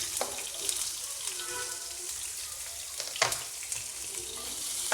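Sliced onions frying in a little hot oil with dried red chilli and black cumin seeds for an egg curry, giving a steady, close sizzle with a couple of brief utensil clinks and no talking.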